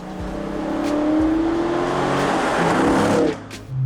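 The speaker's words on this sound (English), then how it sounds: "push the start button. It roars to life." A 2019 Dodge Challenger R/T Scat Pack 392 Widebody with a manual transmission roars loudly close by, its V8 rumble rising as it revs and pulls away, with no voices present.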